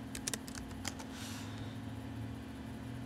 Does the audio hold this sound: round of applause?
no